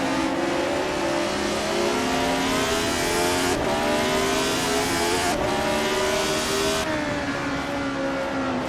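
A 1975 Formula 1 car in the Assetto Corsa racing game screams around Watkins Glen, its engine note climbing loud and sustained through several upshifts with brief breaks between gears, with no talk.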